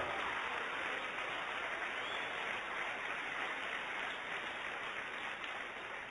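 A church congregation applauds in a steady, even patter that sounds somewhat muffled and distant, continuing unbroken throughout.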